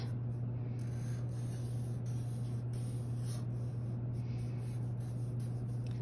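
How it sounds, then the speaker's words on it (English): Pen or marker drawing a baker's hat on paper: soft, continuous scratchy strokes with short breaks, faint and close, over a steady low electrical hum, with no talk. "so I'm going to draw that hat"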